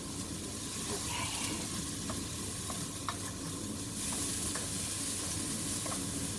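Celery and other vegetables sweating in a pan for a budget chicken meal, giving a quiet, steady sizzle and hiss with a few faint clicks of a utensil, heard alone.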